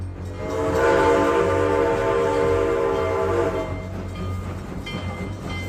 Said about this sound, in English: Reading and Northern Railroad steam locomotive 2102 pulls into Jim Thorpe